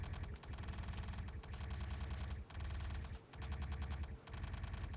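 Rapid automatic gunfire in the video game Star Citizen rattles in several sustained bursts with brief gaps between them, loud and continuous.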